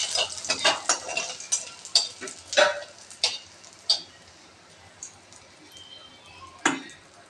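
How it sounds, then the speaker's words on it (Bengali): Whole cumin seeds and a dried red chili temper in hot oil, with a string of sharp crackling spits and stirring scrapes, busy at first and then thinning to occasional pops. "তেলটা গরম হয়ে গেছে, এরকম সময় আমি সামান্য গোটা জিরে আর একটা শুকনো লঙ্কা ফোড়নে দিয়ে"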